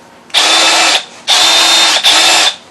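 A Milwaukee M12 FUEL SDS rotary hammer drill runs in drill mode, giving three loud, steady whirring bursts close up, with brief pauses and a short dip between the last two.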